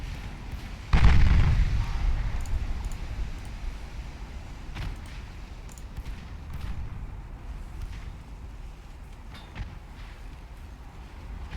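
Warship main guns fire in the naval battle game Ultimate Admiral Dreadnoughts, one loud deep boom that rolls off into a long rumbling decay, then a low battle din with faint distant thuds.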